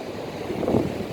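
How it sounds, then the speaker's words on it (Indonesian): Ocean waves at Suak Ribe beach in Melaboh, West Aceh, with a low rumbling wash of surf swelling briefly louder mid-clip under steady wind noise on the microphone. "Lihat, ombaknya sangat bersahabat, lautnya sangat hebat."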